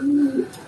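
Pigeons in a loft give a short, low coo, close and moderately loud, fading out after under a second.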